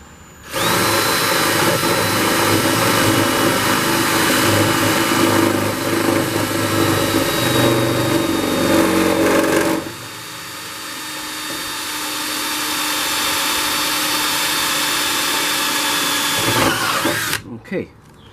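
A power drill bores a hole in a salvaged Jeep part, running loud and steady for about nine seconds, then continuing at a lower, slightly changed pitch before cutting off near the end.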